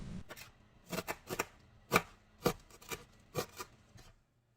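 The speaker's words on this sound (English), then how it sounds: "I finely chopped some fresh parsley and set it aside" Fresh parsley being finely chopped with a knife on a board, about a dozen quiet, uneven cutting strokes close by with no talk.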